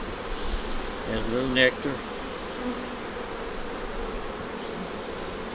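Honey bees buzz over a hive frame as they bring in pollen, a steady close insect drone under a brief spoken remark.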